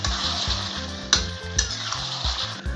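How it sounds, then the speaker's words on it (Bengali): Tribal chicken curry meat sizzles steadily in a pot as it is sautéed, with a constant frying hiss, a few sharp clinks of a utensil against the pot, and low rumbling underneath, with no talk. "বারবার কিন্তু ঢাকা দিয়ে দিয়ে কষতে হবে মাংসটা"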